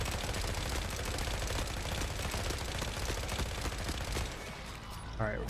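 Dense, sustained gunfire from the video game Forever Winter, rapid overlapping shots rattling continuously at close range, easing slightly near the end.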